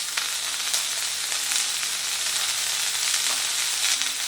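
Broccoli fries with turmeric and salt over a medium flame, giving a dense, even, loud sizzle that never breaks, with a few soft stirring scrapes from the pan.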